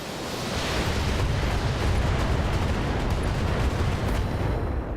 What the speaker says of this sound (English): Firing missile